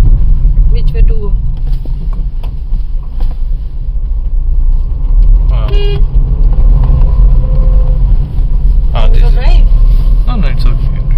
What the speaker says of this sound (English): This is a proper hill drive.